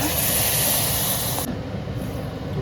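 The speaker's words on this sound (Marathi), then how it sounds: "पाणी ओतायचं" Hot water poured into a cooking pan on a stove, a loud steady hissing rush that cuts off abruptly halfway, leaving a quieter sizzling hiss.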